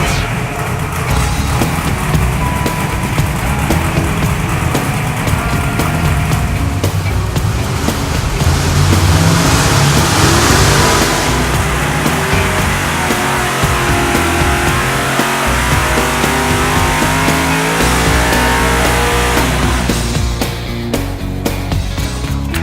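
A car engine runs and revs on a dyno, a loud, sustained roar that climbs and swells through repeated high revs and then falls back, with faint voices under it now and then.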